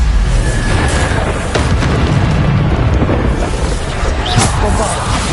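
Repeated Bombarda explosion spells in the Hogwarts Legacy video game boom loudly amid dense battle noise, with a voice shouting spell names over the rumbling blasts.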